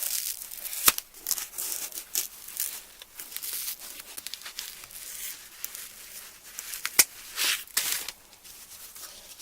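A Dollar Tree scrub sponge is cut in half, giving close, crisp crinkling and tearing sounds in irregular bursts with a few sharp clicks, loud and near, with no voices over it.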